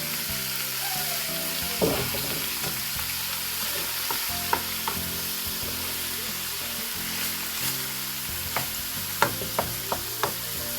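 A kilo of lamb mince sizzles steadily in a pan over already-fried garlic for shepherd's pie, with a spoon scraping and stirring and clacking now and then, close and continuous.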